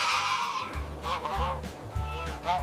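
A Canada goose gives a series of loud, nasal honks, about four calls in a rough repeating rhythm, heard close and clear with no talking.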